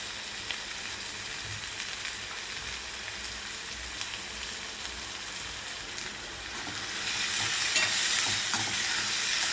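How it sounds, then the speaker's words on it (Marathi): Chopped onion sautéing in a hot pan for paneer bhurji, a steady close sizzle and frying hiss with stirring scrapes that grows louder and brighter toward the end. "कांदा आपल्याला चांगला भाजून घ्यायचा आहे"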